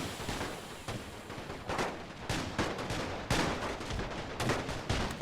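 Explosions and gunfire in the World War I game The Great War 6.0: loud, dense bursts of firing with repeated sharp blasts and thumps packed across the whole stretch, with no voices.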